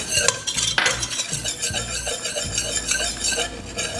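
Flour being stirred into a mac and cheese sauce in a pan, with scraping and clinking of a utensil against the pan over a low sizzle, continuous and close.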